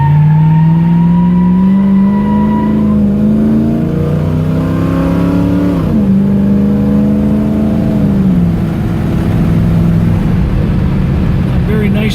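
A 1968 Camaro RS with an automatic transmission and updated drivetrain is driven hard, its engine rising steadily in pitch as it accelerates through the gears, loud and close throughout.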